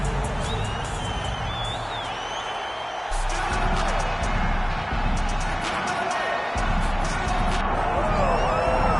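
An arena crowd in a PS5 fighting game roars steadily as Nate Diaz makes his walk-out, a dense continuous cheer with a commentator's voice over it.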